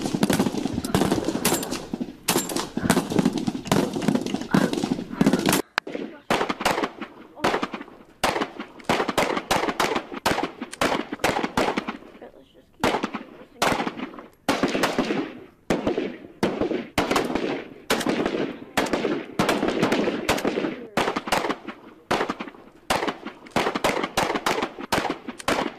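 Sustained rapid gunfire, volleys of sharp cracking shots firing in dense bursts with short pauses, loud and continuous throughout.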